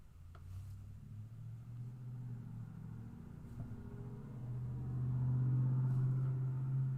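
A neighbor's car starts and idles with a low, steady engine rumble heard through thin walls, muffled and swelling louder toward the end, with no talking.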